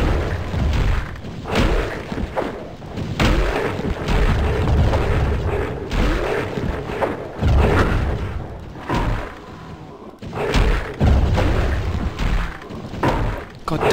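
A barrage of magical projectiles bursting in Hexen: Deathkings of the Dark Citadel, loud booming thumps and crackling impacts rolling one after another, a voice talking over them.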